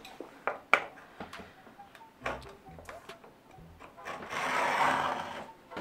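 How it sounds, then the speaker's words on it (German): Hand plane shaving a wooden zero-clearance insert for an Einhell TC-TS 2025 table saw, heard as scattered knocks and clicks followed by one longer rasping, swishing stroke near the end, fairly close and moderate in level. "Und jetzt einfach mit dem Hobel ein paar Mal durch, ja, so lange bis es eben passt."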